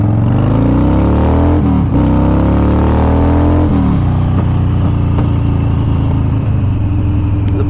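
Motorcycle with ape hanger handlebars accelerating hard, loud close engine rising through the revs with brief drops at gear shifts, then pulling steadily onward.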